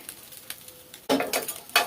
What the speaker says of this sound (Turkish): bu şekilde biraz ekmeklerimizi tavada ısıtıyoruz, kurutuyoruz ve kızartıyoruz